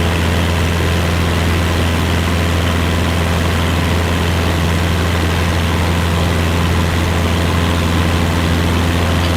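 An aircraft engine in Microsoft Flight Simulator 2024 drones steadily and loudly throughout, a constant low propeller hum with a broad even roar above it and no breaks.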